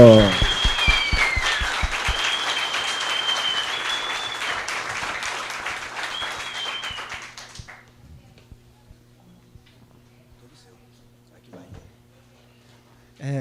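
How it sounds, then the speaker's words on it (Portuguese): Applause from an audience at a paternity leave advocacy event, with several sharp claps up front over background music before the clapping fades out around eight seconds, leaving near silence. "Batendo muitas palmas, senhoras e senhores, Leandro Ziotto."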